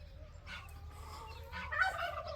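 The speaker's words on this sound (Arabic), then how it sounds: "عشان وز وديك رومي اهو" Farmyard turkeys gobbling, with geese kept alongside on a farm in Fayoum, Egypt: a couple of rattling gobble bursts rising over a low background hum, the last one nearest and loudest.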